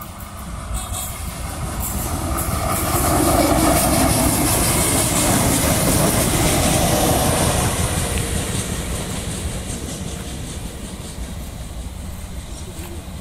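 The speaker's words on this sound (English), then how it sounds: "In the middle of a national park, a Belair Line train is coming through." A Belair Line passenger train in Adelaide rumbles past close by through a national park, its roar swelling to a peak and then slowly fading, with rhythmic wheel clatter over the tracks.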